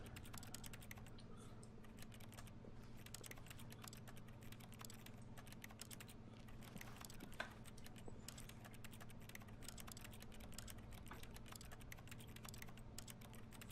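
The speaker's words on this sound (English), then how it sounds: "I didn't know I could just have the keyboard sound always." Rapid keyboard clicking rings out from touching a chair in The Stanley Parable, a continuous patter of crisp key taps over a low steady hum, fairly quiet and with no talk.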